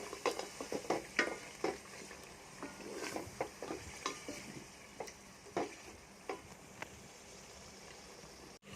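Chicken being stirred in a frying pan while making vegetable rice: repeated soft scrapes and clicks of a spoon over a low, faint sizzle, no voices.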